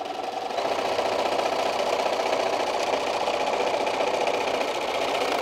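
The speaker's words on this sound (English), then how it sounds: "if you have a sewing machine like mine that eats up the first inch or so" A home sewing machine stitches fabric for microwave bowl cozies, a steady rapid whirring hum that starts after a brief pause and runs evenly, close and alone.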